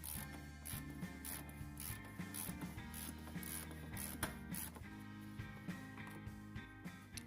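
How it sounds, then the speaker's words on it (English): A 3/8 ratchet fitted with a universal joint turns a bolt on a 1999–2005 VW Jetta's lower control arm, a quiet run of rapid, regular clicking pawl ticks close up. "Using a universal joint on your 3/8 ratchet really helps."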